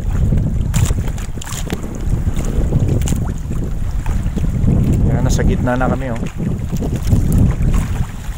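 Steady wind gusts buffet a small boat out at sea near a fish trap off Valladolid, Negros Occidental, a broad rushing roar filling the whole stretch while people talk casually over it.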